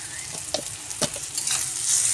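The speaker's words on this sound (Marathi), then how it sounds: "कांद्याबरोबर टोमॅटो भाजून दिसतोय चांगला टोमॅटो छान भाजते" Tomatoes fry with onions in a pan, a continuous crackling sizzle broken by several sharp scraping stirs, the frying hiss swelling louder toward the end, with no talking.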